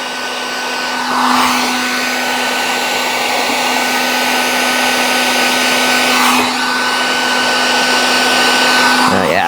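A heat gun shrinks tubing over a solder joint during work on a 1965 Chevrolet C10 pickup, a loud, steady blowing hum with a constant motor tone and slight swells as it is moved.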